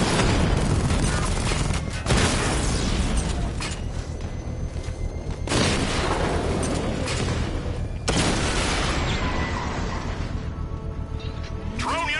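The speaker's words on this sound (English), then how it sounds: "Batman's taking out a drone" Heavy booms and mechanical crashes as Batman destroys a drone in Batman Arkham Knight, loud and continuous with several sharp impacts spaced a few seconds apart over a dense wall of game noise.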